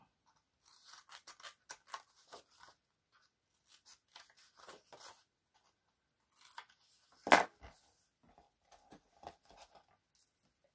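Scissors snipping bevels into glue tabs on folded paper, a series of soft close crisp cuts and rustles spaced irregularly, with one sharper louder snip partway through and quiet gaps between.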